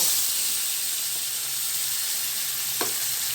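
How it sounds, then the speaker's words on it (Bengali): Pomfret coated in gondhoraj lemon and spices sizzles in hot oil, a steady bright frying hiss throughout, close and continuous, with one small pop near the end. "এই তেলে আমি এই গন্ধরাজ এবং সমস্ত মশলা মাখানো পমফ্রেটগুলো এক এক করে ছেড়ে দেব"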